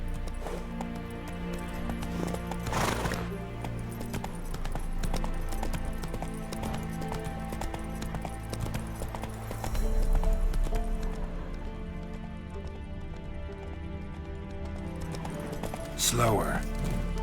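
Roach, a horse in The Witcher 3, gallops with a steady rapid clip-clop of hooves under game music and ambience, with a whinny and a voice speaking over it.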